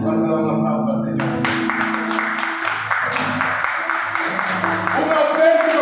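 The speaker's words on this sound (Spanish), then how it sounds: "¿Cuánto da un aplauso al Señor?" Congregation applauding at a Spanish-language evangelical church service, a dense wash of clapping swelling in after the first second and sustained over organ or keyboard tones and sung or spoken voices.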